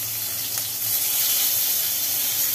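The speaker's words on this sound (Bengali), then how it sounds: "এবার একটা একটা করে বেগুন দিয়ে দেওয়া হলো।" Eggplant slices, salted and coated in turmeric, sizzle steadily in hot oil, a close, continuous frying hiss that swells slightly as pieces are added one by one.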